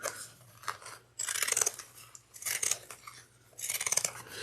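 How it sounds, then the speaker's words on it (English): Pinking shears make three bursts of crisp, crunchy snipping, close and clear, as they trim a fabric seam allowance down to about an eighth of an inch while sewing a drawstring satchel. "I'm going to take my pinking shears and then go all the way around and trim this down to about a 1/8 of an inch seam allowance"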